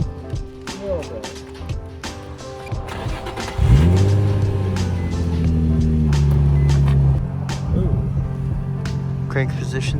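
A Nissan Z's engine starts and revs, then holds a loud, rising drone as the car pulls away, the pitch climbing and settling before easing off, with brief voices nearby.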